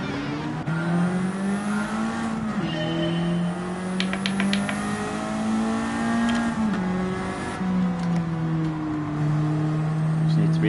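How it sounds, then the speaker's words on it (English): A drift-built car in the Gran Turismo 7 racing game, with altered rear camber and changed suspension, holding a steady engine drone that rises and falls in pitch with throttle inputs, plus brief tyre squeal, heard continuously throughout. "This is built for a drift car."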